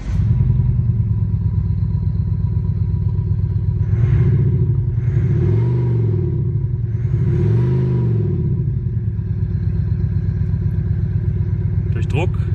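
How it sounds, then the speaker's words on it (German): Synthetic engine sound from an insidePerformance Active Sound system fitted to a BMW 3 Series or 4 Series, a steady low idle drone with a few swelling rev blips around the middle, played close and continuous. "Wenn wir das Fahrzeug nun starten, sollten wir sofort den Sound des Active Sound Systems hören können."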